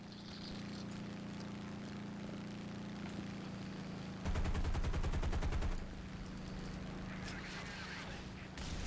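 Eight Browning machine guns on a fighter plane in the War Thunder video game fire one loud rapid burst of about a second and a half over a steady engine drone.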